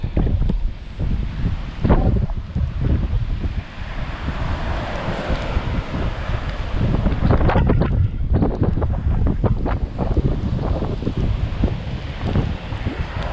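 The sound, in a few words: wind blowing on the Brittany coast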